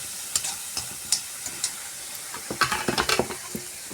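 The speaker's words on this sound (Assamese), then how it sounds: "মছলাটো ভাজি পেলাই অকণমান" Spice paste with ground green chillies sizzles in a pan while a spoon scrapes and stirs it, soft frying hiss broken by sharp irregular scraping clicks that cluster toward the end.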